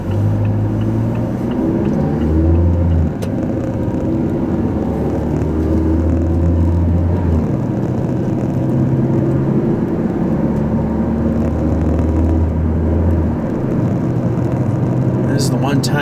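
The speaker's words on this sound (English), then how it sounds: "This is the one time you kind of hear me pushing the engine a little bit." A car engine drones under steady road rumble, its pitch rising and falling as the driver pushes the throttle, with faint interior hum and a couple of light clicks near the end.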